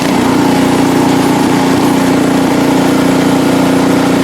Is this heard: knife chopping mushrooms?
no